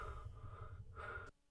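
Heavy, ragged breathing from the wolfman form of Simon in the video game Castlevania: Mirror of Fate, close and fairly quiet, with two long drawn breaths that stop abruptly.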